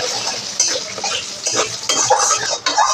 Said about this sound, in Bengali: মাছের তেলে মাছ তো ভাজলামই এরপর আলুগুলোকেও ভেজে নিলাম